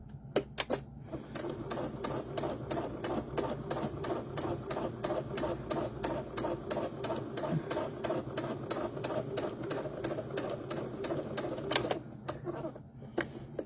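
A sewing machine back stitching through fabric for a small book page marker and pen holder, with a steady, fast run of needle clicks after a few separate taps. The stitching continues for about eleven seconds, then stops with a couple of clunks.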